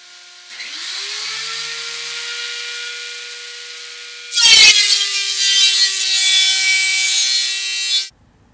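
A DeWalt 13-inch planer runs alongside a dust collection system. It spins up with a rising whine into a steady drone, then a board feeds through with a loud, harsh cutting roar that carries on until the motor winds down.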